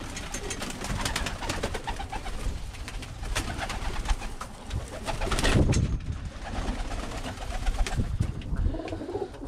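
Birmingham Roller pigeons coo softly in an enclosed loft, low murmuring calls overlapping, with scattered scratching and fluttering nearby.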